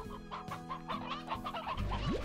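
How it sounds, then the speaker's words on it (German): Chickens cluck repeatedly in the Slime Rancher video game, a steady run of short clucks with a rooster among them, set over a looping background music track with no talking. "Hier haben wir wieder einen Gockel."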